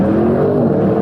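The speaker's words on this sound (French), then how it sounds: "Je l'ai mis en mode RS pour accélérer un peu." An Audi RS6 Avant in RS mode accelerates, its engine a loud, close droning growl with the pitch climbing slightly over a brief moment.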